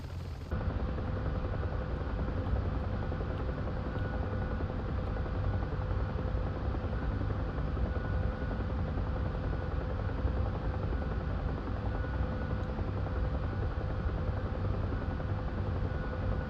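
Steady, loud rotor and turbine drone of a UH-1 Huey helicopter in the Vietnam-era flight simulator DCS, running continuously and evenly throughout with no voices.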